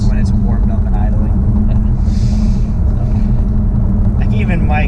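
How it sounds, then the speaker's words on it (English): A car's exhaust, fully warmed up, idles with a steady low rumble that runs through the whole stretch while people talk over it. "my quiet mode is when it's warmed up and idling"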